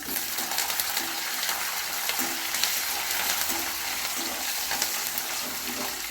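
Curry leaves and peanuts frying in oil make a steady, close crackling sizzle with faint rhythmic stirring scrapes throughout and no talking.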